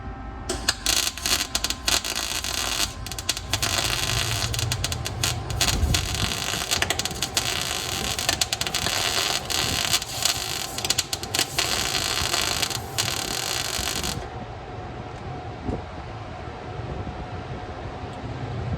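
Welding a test piece coated with weld-through primer gives a steady, harsh crackling buzz with irregular sputtering pops. It runs loud and continuous for about fourteen seconds before cutting off, leaving a quieter background hum.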